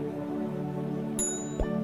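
A short bright notification bell ding rings once, clear and isolated, with a faint soft follow-up tone just after, over a quiet sustained musical background.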